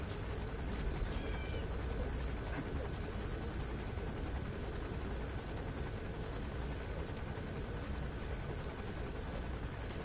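Helicopter rotor and engine drone from Metal Gear Solid 5: The Phantom Pain, a steady, loud, continuous whir with no break, heard alone.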